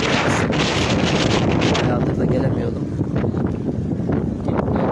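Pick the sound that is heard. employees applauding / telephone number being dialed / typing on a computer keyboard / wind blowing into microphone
wind blowing into microphone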